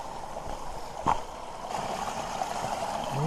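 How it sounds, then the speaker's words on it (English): Creek water flows steadily through a forest, a continuous soft rushing and gurgling heard close by, with a brief splash-like burst near the start and no voices. "So let's head over to the creek."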